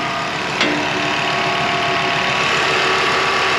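A Volvo 850R engine idles with the bonnet up, a steady close mechanical hum carrying a faint whine, with one brief click near the start and no talk.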